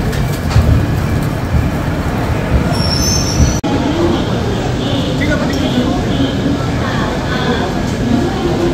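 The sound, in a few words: Padatik Express train arriving at New Jalpaiguri station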